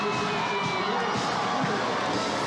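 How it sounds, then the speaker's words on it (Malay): Dense, continuous cheering and shouting from a large crowd of spectators, children's voices among them, at Malaysia's 66th National Day parade in 2023, holding steady and loud throughout. "sorakan kemeriahan yang semakin membara dalam kalangan penonton kita hari ini"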